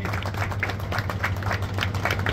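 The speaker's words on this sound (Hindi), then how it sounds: "ताली बजाएं, करतल ध्वनि ताली बजता रहे स्वागत में" Steady applause welcomes a college principal at a village post office opening ceremony in Bali village, Warisaliganj, with a crowd clapping continuously and fairly close over a low hum.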